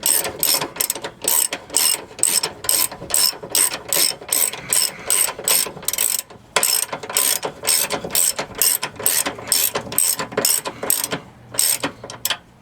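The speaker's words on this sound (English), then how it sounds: "take your ratchet, adjust it so you can screw it back in." A ratchet tightens the sway bar bushing bolt on a Chrysler 300, Dodge Magnum or Charger, clicking in fast rhythmic bursts with brief pauses between strokes, close and clear with no talking.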